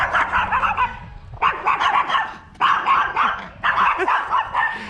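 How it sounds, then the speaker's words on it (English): Several dogs bark repeatedly in loud bursts close by, with short pauses between volleys of overlapping barks and yips. "These doggies, so loud."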